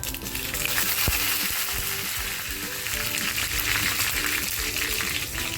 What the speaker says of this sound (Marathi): तेल बघा छान तापले मोहरी टाकते छान तडकली ना की त्याच्यामध्ये कढीपत्ता टाकते